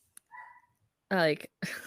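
A dog barks at a distance outdoors, a couple of short faint yaps early on, followed by a person talking close to the microphone.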